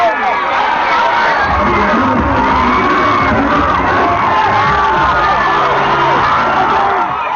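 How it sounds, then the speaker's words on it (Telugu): Loud crowd cheering, whooping and yelling at a YS Jagan rally in Kurnool district, a dense, continuous roar of many voices that holds steady from start to finish. "జగన్ చేరుకున్నారు. హర్షధ్వానాలు మిన్నంటాయి."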